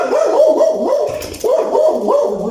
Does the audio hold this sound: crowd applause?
no